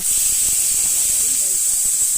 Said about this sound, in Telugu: ఆవిరి వచ్చిన తర్వాతే విజిల్ పెట్టండి